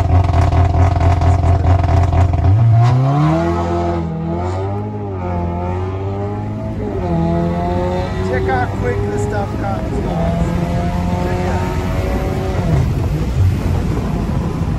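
A Volkswagen Golf 7.5R drives hard and loud, its engine revving up and down in rising and falling sweeps before settling into a steady, roaring pull close by.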